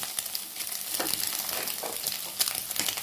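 Vegetables for chicken fried rice stir-frying in a pan, a steady close sizzle broken by scraping clatters of a spatula tossing them, with no voices.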